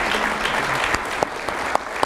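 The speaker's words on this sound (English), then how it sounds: "Let's give him a round of applause." An audience applauds after a book talk on the Nixon tapes, giving dense, sustained clapping with a few louder claps standing out near the end. No one speaks.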